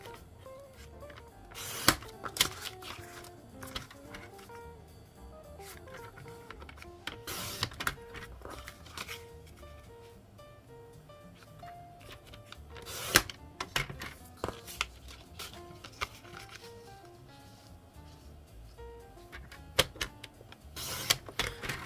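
Paper bookmark strips are sliced on a cutter at intervals, giving sharp scattered cutting clicks and thumps over a low steady background hum, with quieter rustling and handling in between.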